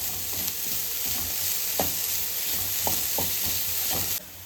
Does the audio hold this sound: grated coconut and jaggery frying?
yes